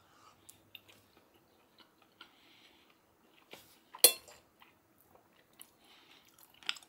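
Someone chews rehydrated freeze-dried chili close to the mic: soft, scattered wet bites and crunches in a quiet room, with one louder chomp partway through.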